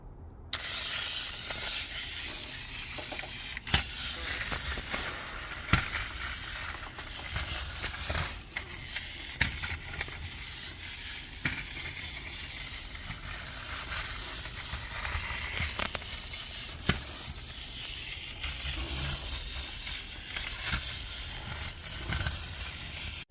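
A motorized 1/35 scale Tamiya Panzer II model tank runs with a thin, high mechanical whir and rattling plastic track clatter that stays steady and close throughout, broken by occasional clicks.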